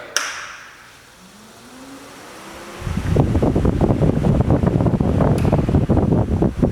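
A car's electric radiator fan starts at low speed with a rising whine, then settles into a loud, steady whooshing rush of air.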